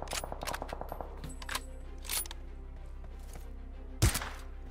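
Machine gun fire in an online multiplayer shooter, with a few short, quiet bursts of rapid shots early on and a single sharper impact near the end, over a low steady hum.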